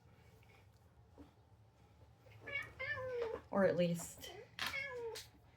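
Spoiled house cats meow several times in close succession, loud and near, under and between a person's brief speech.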